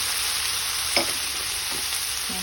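Flaked tuna fries in a pan with a steady, close hiss and sizzle, broken by a few soft scrapes of stirring.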